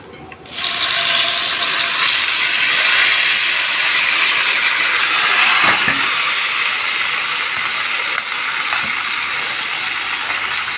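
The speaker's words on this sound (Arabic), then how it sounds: "حته تومه كده حلوه، حته سمنه بلدي نصفرها، هننزل عليها بقى كده" Garlic sizzling in hot homemade ghee for a taro dish, a loud, dense crackling hiss that starts suddenly and holds steady, with a few faint clinks of a utensil and no talk.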